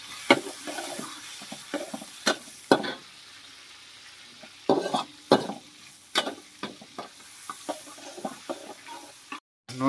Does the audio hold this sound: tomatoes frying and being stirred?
yes